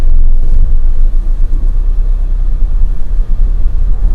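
A UAZ Patriot SUV rolls into an off-road puddle, heard as a loud, close low engine rumble with heavy, fluctuating splashing and churning noise, no talking.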